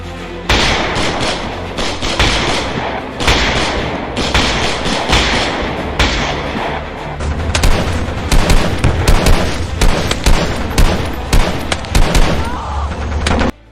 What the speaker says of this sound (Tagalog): Nagpapaputok sila noon ng kanilang mga baril sa mga rebeldeng grupo.